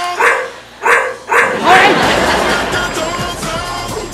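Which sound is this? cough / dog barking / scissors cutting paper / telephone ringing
dog barking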